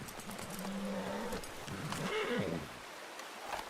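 A horse in the video game Red Dead Redemption 2 whinnies and snorts in a long wavering call, close and fairly loud, with a rough breathy tail and no talking.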